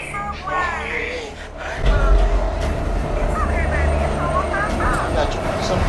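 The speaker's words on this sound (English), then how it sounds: "There's a train." A New York subway train rumbling along its track, a heavy low roar that grows louder partway through and stays steady, with people talking over it throughout.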